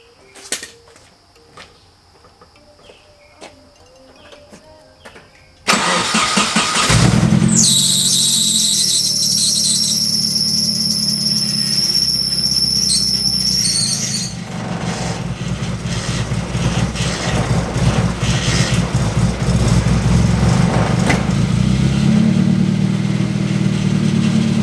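A car's power steering pump, fitted during drift event preparation, starts after quiet clicking and then whines steadily and loudly over the engine's running drone, a high squeal that lasts several seconds before the engine hum continues alone.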